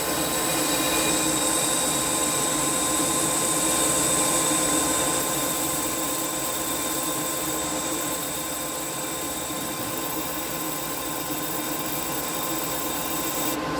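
A single-action airbrush sprays while being cleaned, a continuous close, loud hiss of air that holds steady and unbroken throughout.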